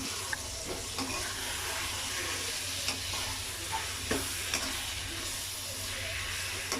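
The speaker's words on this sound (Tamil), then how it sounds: "ஆட் பண்ணிவிட்டு நல்லா மிக்ஸ் பண்ணி விட்டுடலாம்." Chopped tomatoes stirred into a frying fish curry base, a steady close sizzle with repeated light scrapes and taps of the spoon against the pan, no speech.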